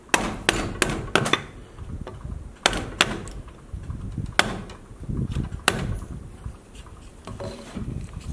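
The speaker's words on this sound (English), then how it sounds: "Again, using a big gouge." A big gouge carves a cedar post, driven by sharp, irregular knocks spaced a fraction of a second to a second apart, fairly close, with softer scraping and rustling between strikes and no voices.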